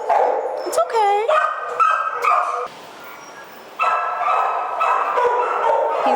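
A dog at a county animal services call barks and yips repeatedly up close, with a whining cry early on and talk mixed in between the barks.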